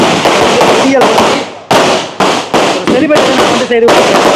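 A rapid string of firecrackers goes off in a village, loud and close, with sharp repeated bangs and crackling bursts packed together over several seconds.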